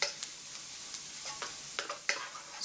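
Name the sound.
spring onion sizzling in hot oil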